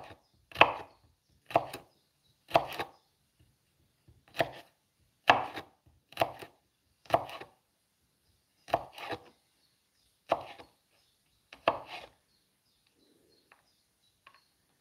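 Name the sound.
chopping garlic on a cutting board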